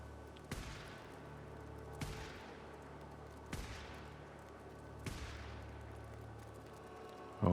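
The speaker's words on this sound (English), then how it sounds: "there was definitely somebody up there because I heard shots" Distant gunshots in the video game Days Gone: four sharp cracks spaced about a second and a half apart, each trailing a short echo, faint against a steady low ambient hum.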